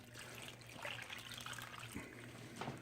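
Water is poured into a pot holding a whole chicken, cut onions and celery for stock, a soft close trickle and splash that rises and falls over a few seconds with no speech.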